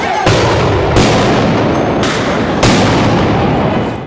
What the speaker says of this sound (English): Portland police used flashbangs to break up a fight between members of Patriot Prayer and opposing protesters.